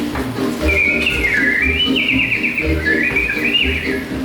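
Animatronic birds in Walt Disney's Enchanted Tiki Room at Magic Kingdom sing bright, warbling whistled chirps in rising and falling phrases over a steady musical bed, loud and continuous without talk.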